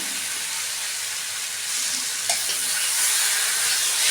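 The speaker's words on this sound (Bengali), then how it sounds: "দেখুন মাংস ভালো করে কষিয়ে নেওয়া হয়ে গেছে" Chicken with whole onions and whole garlic cloves frying in a pan, a steady close sizzle with faint hiss that swells slightly louder toward the end, no voices.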